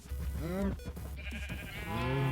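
Sheep bleating in Minecraft: two drawn-out, wavering bleats, one near the start and one at the end, close and clear over a steady low game hum.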